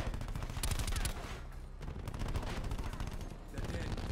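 Gunfire in the video game Black Ops 4, heard as dense, loud automatic bursts and rapid shots that fill the whole stretch with only a brief lull, with no voices.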